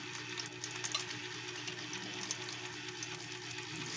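Chopped onion sautéing in cooking oil in a pan for a simple Filipino dish, giving a steady soft sizzle and crackle that runs evenly through the whole stretch with no talking.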